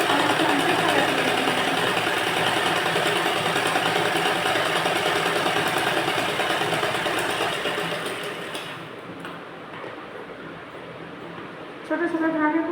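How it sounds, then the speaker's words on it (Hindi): A sewing machine stitches a blouse in a steady, loud mechanical whir that eases and slows near the end, followed by a brief restart. "हम इसी आकार में इसको स्टिच करेंगे और स्टिच करते हुए इस तरह से सिलाई लगाकर कट लगाएंगे"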